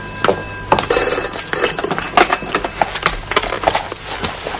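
An old-style telephone bell rings insistently in a tense domestic scene, its metallic trill sounding in short bursts alongside clattering thunks nearby.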